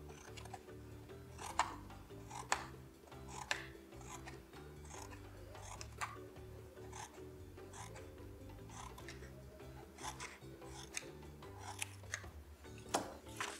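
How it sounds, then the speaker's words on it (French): Scissors snipping diagonal cuts into paper to make fur for a tiger mask, a string of short crisp snips repeating at a steady rhythm, close and fairly quiet over a low background hum. "Toujours en diagonale, je fais des traits de ciseau."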